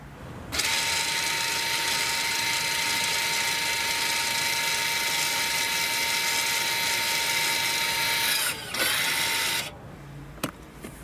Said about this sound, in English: You will hear the motor noise in the back of the vehicle.